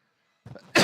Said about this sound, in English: I've had this little nagging cough.